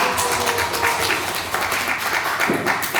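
Church congregation at a Sunday service applauding the sub-leaders, a dense, steady wash of many hands clapping together, filling the room at an even level throughout.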